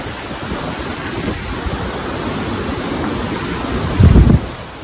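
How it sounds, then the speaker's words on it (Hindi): A mountain river near India's first border village rushes steadily in a dense, even broadband roar, with a brief louder low splash or gust near the end. "नदी।"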